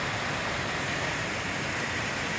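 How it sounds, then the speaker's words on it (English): Fast-running clear stream water rushes along the Appalachian Trail, a steady, close, full-bodied hiss and burble with no pauses and no voices. "Fast running, clear water."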